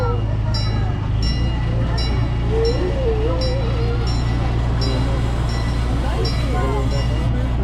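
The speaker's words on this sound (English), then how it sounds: "We'll take you on a little train ride through Hermann Park." A small park train on the Hermann Park Railroad in Houston rolls along with a steady rumble and rhythmic clacking, a voice talking over it and a whistle-like tone rising and falling.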